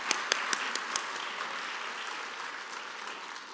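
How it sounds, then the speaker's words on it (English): At a citywide art festival opening ceremony, an audience gives fairly quiet applause. A few sharp individual claps stand out at the start before the sound settles into an even patter that gradually tapers. "Give him a round of applause anyway."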